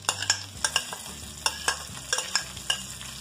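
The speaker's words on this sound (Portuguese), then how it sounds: "A linguiça já deu uma boa refogada aqui" Chopped calabresa sausage sautés in a pan with pork rib rice, as rapid, rhythmic spoon scrapes and stirs sound over a steady soft sizzle.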